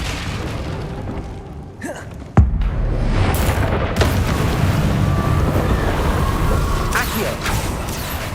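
A Bombarda spell in Hogwarts Legacy detonates as one sharp, heavy blast that gives way to a rumbling, wind-like roar that lingers. A second, lighter impact follows shortly after.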